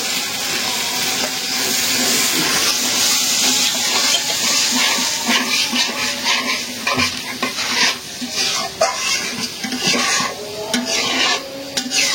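Spices frying in hot oil in a pan, a loud steady sizzle with repeated scraping stirs and clinks of a utensil throughout, close by and without talk.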